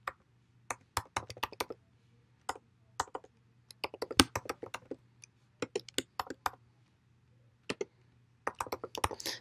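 Keys clatter on a computer keyboard in short irregular bursts of crisp clicks, close and dry, separated by quiet pauses, with no voices.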